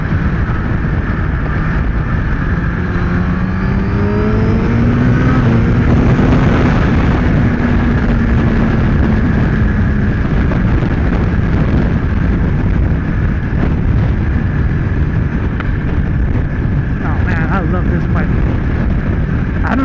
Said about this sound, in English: this bike is just too much not to at least open it up a couple of times